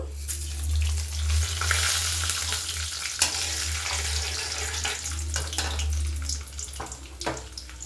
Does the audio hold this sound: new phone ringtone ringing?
no